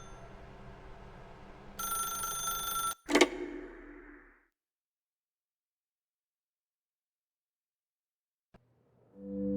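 A telephone rings in the video game The Stanley Parable with a bright, repeating electronic bell lasting about a second, then a sharp clatter, a fading tail and near silence, with a soft tonal sound returning at the end.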